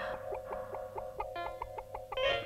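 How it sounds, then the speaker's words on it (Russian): Cartoon chickens cluck in a quick, regular run of short, bright calls over a faint steady hum, growing busier and more overlapping toward the end, with no talking. "Разлетелись курицы, бегают по улице."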